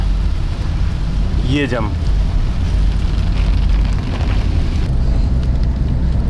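A heavy downpour drums steadily on a motorhome as it drives along a road in Crimea, making a loud, unbroken roar, and a voice speaks briefly partway through.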